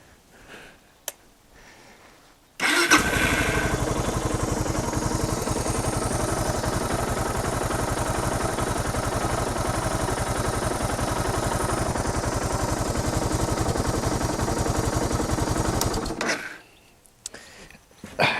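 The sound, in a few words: motorcycle engine starting and idling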